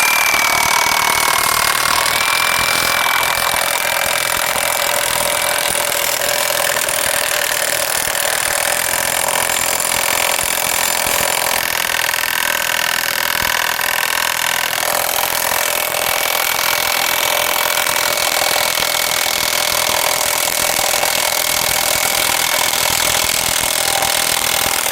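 Milwaukee M18 impact tool with a Forge battery driving a 20mm coach screw through a 30mm socket into wood, a loud, continuous, grinding rattle of hammering blows that holds steady for nearly half a minute with no talk.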